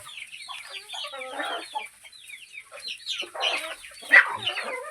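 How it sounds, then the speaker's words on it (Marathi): Country chickens cluck and chatter continuously, several birds at once, fairly close, with one sharper squawk near the end and no speech. "आपण प्युअर गावरान कोंबडी पालन करतो"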